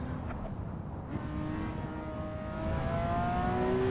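A race car engine in a racing video game rises in pitch through steady high revs, the whine climbing toward 9,000 RPM, loud and continuous with no pauses or talk.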